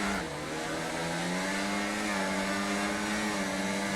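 Formula race cars in a racing video game drive side by side into a turn, several engines whining together in a steady high-pitched roar whose pitch climbs slightly.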